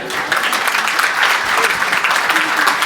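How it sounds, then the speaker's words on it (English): Audience applause at a rent-to-rent deal-closing masterclass, a loud continuous burst of many hands clapping close by throughout. "job done. Round of applause."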